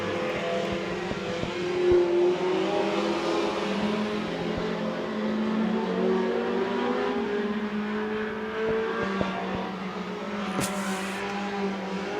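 Race cars roar around the oval at Winston Speedway on the final lap of a main event, a steady dense engine drone with rising and falling pitch as the field passes, loud and continuous without talk.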